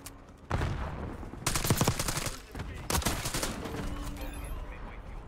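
Gunfire from a Jackal PDW submachine gun in Black Ops 6, loud automatic bursts of rapid shots in three or four clusters with brief gaps between them, close and dense.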